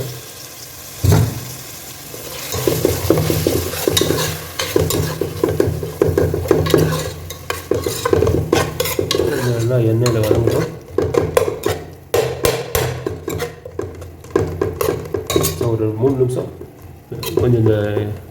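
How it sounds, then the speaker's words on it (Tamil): Tomatoes sauté in oil for a street-style Ambur mutton biryani, with continuous stirring scrapes and clanks of a ladle against the pot, a steady sizzle and someone talking over the cooking. "தக்காளி கொஞ்சம் எண்ணெயில் நல்லா வதங்கட்டும்"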